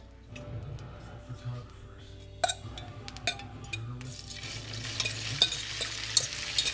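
Vegetable oil heating in a hot pot, a soft crackle and sizzle building up with occasional clinks of a utensil, while a person talks throughout.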